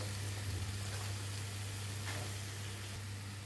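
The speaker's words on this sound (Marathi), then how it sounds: "कांदा हे सगळं आपलं छान भाजून झालं आहे. आता ह्याच्यात आपण गवार घालूया." Cluster beans tipped into a pan of onions already fried until browned, giving a steady soft sizzle with a low hum beneath it, fairly quiet throughout.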